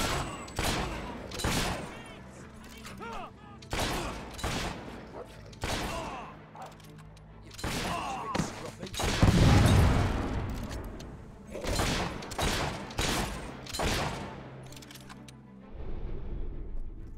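Gunfire in the Fable 3 video game: repeated sharp shots in bursts, one volley after another, over a fight, with a heavier thump in the middle and voices talking between the shots.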